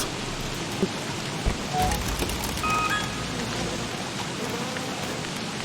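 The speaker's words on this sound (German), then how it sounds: "Kalter Regen, ja, wenigstens ist es ein kalter Regen und nicht ein saurer." Steady cold rain falls in the video game Don't Starve Together, a constant hiss of drops on the ground with a few faint chimes and soft thuds, moderately loud and unbroken for several seconds.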